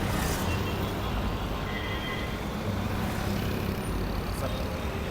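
Steady road traffic noise heard from inside a car travelling toward Pune, a continuous low rumble of engines and passing vehicles with no clear individual events, at moderate level throughout.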